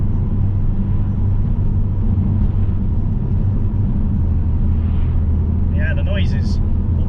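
Vauxhall Vectra VXR with a hybrid turbo, its engine droning steadily in a low continuous rumble at part throttle from inside the car, with a few brief tonal chirps near the end.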